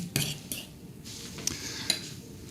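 A fork mashes bananas in a bowl for pancake batter, giving a few soft, close scraping clinks against the dish at irregular intervals over a quiet kitchen background.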